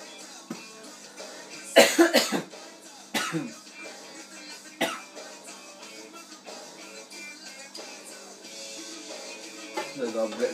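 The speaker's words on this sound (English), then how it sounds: "There's a bit of cough there." A person coughs several times at close range, with sharp bursts and some throat clearing against a steady background hum from a fish tank setup.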